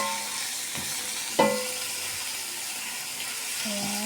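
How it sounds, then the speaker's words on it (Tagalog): Broad beans frying in a pan with browned garlic and shallot, a steady close sizzle with a couple of sharp utensil knocks as they are stirred; no talking. "Pagkatapos ilagay na din natin yung broad beans na pinaglasan. Tapos halo-haloin."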